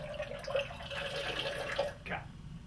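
Short steady stream of liquid from a bottle with a pour spout into a metal bar tin, a close gurgling flow that stops suddenly near the end, with a faint voice in the background.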